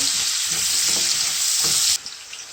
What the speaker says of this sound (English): I'll fry for a while to infuse its flavor in the oil.